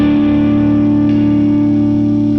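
Donner DST600 electric guitar played with a heavily distorted tone, a loud sustained chord ringing steadily throughout, close and alone.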